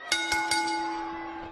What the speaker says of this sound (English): Let's close this out with the DQ bell.